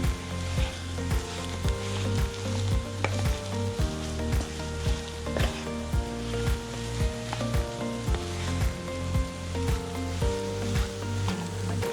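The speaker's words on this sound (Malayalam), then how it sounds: "ഇനി ഈ ഉരുളക്കിഴങ്ങ് നമുക്ക് നന്നായിട്ട് മിക്സ് ചെയ്തെടുക്കാം." Boiled, mashed potato being stirred with masala in a pan for aloo stuffed chapathi filling, a rhythmic scraping and faint sizzle repeating steadily under background music.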